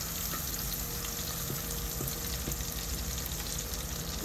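Mung dal and fish sizzle in a hot pan, a steady, close frying hiss with light stirring clicks scattered throughout.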